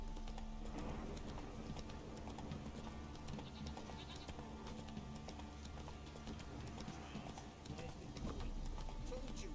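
Hooves of Roach, a horse in the video game The Witcher 3, clip-clopping steadily under low game ambience, with animal bleats mixed in and a voice talking over it.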